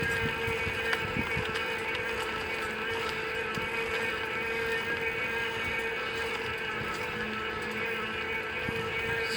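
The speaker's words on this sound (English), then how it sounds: "It's grinding its way up." Electric bike motor straining steadily as it grinds uphill in hot weather while the rider pedals, a continuous droning whine with constant tonal hum and wind rush throughout, no talking.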